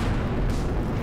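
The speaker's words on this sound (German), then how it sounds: "Dafür gibt es jetzt erstmal eine Explosion" A C4 charge detonates in the voxel destruction game Teardown, giving a short, dense, rumbling boom that stays loud across its brief length.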